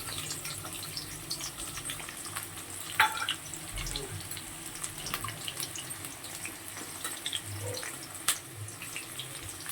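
Onion and garlic go into hot oil with frying potatoes in a wok, producing a soft, continuous sizzle with light stirring clinks, close but fairly quiet.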